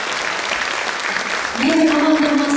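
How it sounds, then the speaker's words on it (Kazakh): A concert audience claps steadily and loudly at a children's arts school performance with an orchestra in Saran, then a sustained musical tone rises over the fading applause. "Шапалақ болсын сіздерден"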